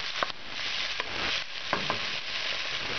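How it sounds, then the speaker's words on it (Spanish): Potatoes frying with onion and spicy chorizo in a pan, an even close sizzle punctuated by several light scrapes and taps of a utensil, with nobody speaking. "Aquí voy a agregar las patatas para que absorba y se mezcle con el sabor de la cebolla y el chorizo picante."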